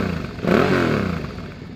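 A 2006 Suzuki V-Strom 650 motorcycle fitted with a slip-on pipe gives a short, loud rev that swells quickly then settles back toward idle, heard close up without any talking.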